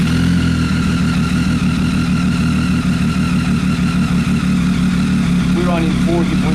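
A Triumph Tiger motorcycle with a bad idle runs close and loud, its engine giving a steady rough low drone with a faint rhythmic pulse throughout.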